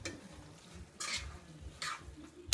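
Onion powder stirred into a tofu scramble in a pan, giving a few soft scraping strokes over a faint sizzle, quiet and close.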